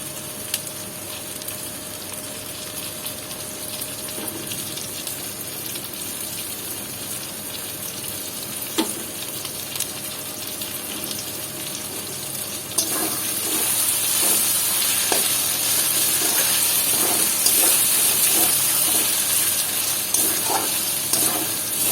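Slit green chillies sizzle in a pan of Bengali-style mutton curry, a steady close frying hiss that grows louder partway through, with occasional stirring clicks and no voices.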